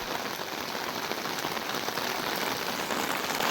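Steady rain falls in a village set among hills and greenery above water, a dense, close patter on surfaces that holds an even level throughout with no voices.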